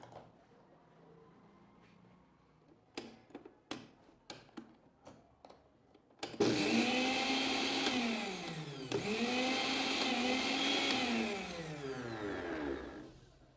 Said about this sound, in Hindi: ये मिक्सी अपना नॉर्मल काम करने लगी